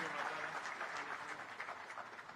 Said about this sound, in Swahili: Tuanga makofi kidogo